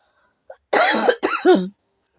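A person coughs in a burst of several harsh, close coughs, with a short earlier throat sound, recorded indoors in the morning.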